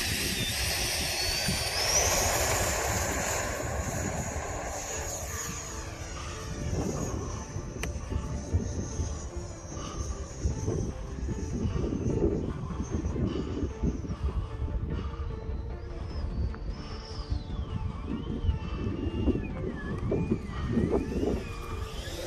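An E-flite F-16 Thunderbirds 70mm electric ducted-fan RC jet on 6S power flies in strong wind, its steady whining roar rising and fading at a distance over heavy wind rumble for over twenty seconds.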